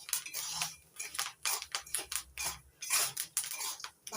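Chickpeas roasting in hot salt in a pan pop and crackle in quick, irregular bursts, with a steady rattling texture and short clicks throughout, close and fairly loud.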